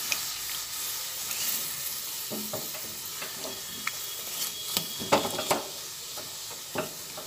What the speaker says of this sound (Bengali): আবার ভালোভাবে পুরোটার মধ্যে মিশিয়ে দিচ্ছি